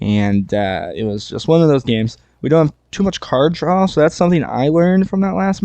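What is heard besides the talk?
No distinct noise like a dog, phone or traffic.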